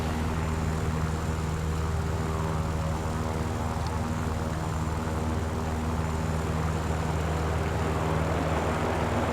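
A Spitfire's piston engine drones steadily in the War Thunder game, a continuous even propeller hum with a low rumble, unbroken throughout and without voices.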